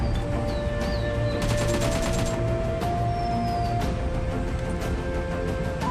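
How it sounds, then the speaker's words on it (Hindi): In PUBG Mobile gameplay, bursts of rapid gunfire and sharp cracks ring out, including a dense volley of shots in the middle, over continuous game background noise. "यहाँ पे गन साउंड आ रहा था"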